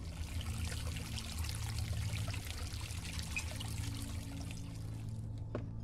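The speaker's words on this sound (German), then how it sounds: "Wasser." Water pours steadily from a valve in the horror game Song of Horror, a continuous close trickling stream over a low droning ambience, with no talk.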